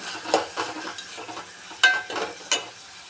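Vermicelli upma tempering in Gemini oil sizzles softly in a pan while a spoon stirs it, a few scraping strokes standing out over the low frying hiss.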